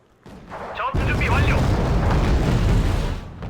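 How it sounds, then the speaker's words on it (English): Wargame: Red Dragon battle noise, with ATGM and artillery fire merging into a heavy, sustained rumble of booms and blasts that swells in after a brief quieter opening. A voice is briefly heard early on. "look at those ATGMs and artillery"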